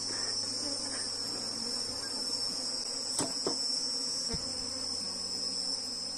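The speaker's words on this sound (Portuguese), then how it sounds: "observem que já tem bastante abelhas. Essas abelhas aqui todas são campeiras." Honeybees of the Apis genus hum steadily around a hive box, a continuous close buzzing drone with a few light knocks on the box.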